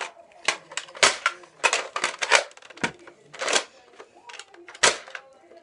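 Plastic clicks and clacks from darts being pushed into a Recon CS-6 Nerf blaster's drum, a quick irregular run of sharp, close taps and rattles with no talking.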